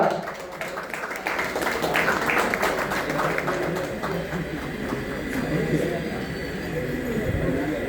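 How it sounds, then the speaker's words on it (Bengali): An audience claps at a pigeon club award ceremony, a steady, dense patter of applause that runs throughout while an announcer speaks over it. "জোরে হাততালি"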